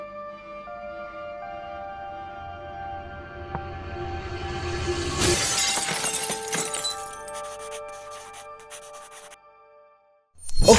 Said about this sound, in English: that's the glass shattering effect